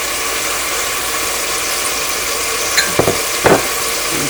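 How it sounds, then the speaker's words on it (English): Garlic goes into a pot of white beef stew, and a steady broadband sizzle runs throughout, with a few brief stirring knocks and scrapes near the end. "Our garlic is going in."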